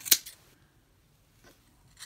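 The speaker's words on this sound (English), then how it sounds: "Stick my scissors right in those loops and pull up tightly and then cut." Scissors snip through yarn loops on a homemade pom pom, one sharp close cut followed by a softer snip, then near silence before another faint cut.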